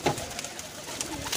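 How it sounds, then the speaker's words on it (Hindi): Pigeons cooing at a pigeon club, soft low coos close by over a quiet background, a couple of brief calls in a short stretch. "वीआईपी कबूतर है माशाल्लाह।"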